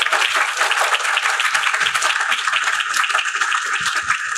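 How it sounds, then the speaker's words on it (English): An audience at a writers award ceremony bursts into dense, sustained applause, many hands clapping steadily and loudly throughout. "How about a big round of applause?"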